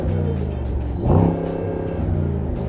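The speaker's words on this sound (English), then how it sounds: "not only have you got a soft limiter, but the more you rev it, the less it actually allows you to rev it to." A Mercedes-AMG SL engine revs up against its soft limiter, a brief loud swell of revving rising over a steady idle drone, then settling back, heard close with no talk.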